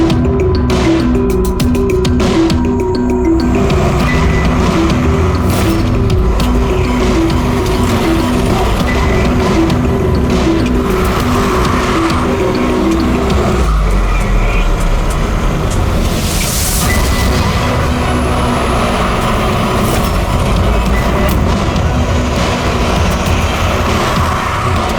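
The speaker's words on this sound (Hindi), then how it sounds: "अबे वो गाड़ी में भाग रहा है" A car races off during a chase in a crime drama, its engine roaring loudly and steadily throughout, with a rhythmic rattling in the opening seconds and no speech.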